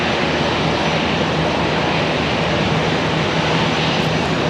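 An airliner taxis for departure at Charlotte airport, a constant loud engine drone with a steady low hum underneath and no pauses.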